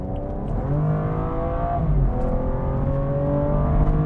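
A BMW M135i engine revs hard and accelerates, its pitch climbing and resetting through gear changes, loud and close with no talking.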